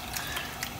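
Water from a jar pours into a pot of tomato sauce, a brief, continuous splashing trickle with faint drips, close and fairly quiet with no voices.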